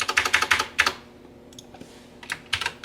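Typing on a computer keyboard, a quick cluster of crisp key clicks, a short pause with a few faint taps, then another burst of keystrokes close by.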